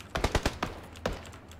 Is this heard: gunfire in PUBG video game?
yes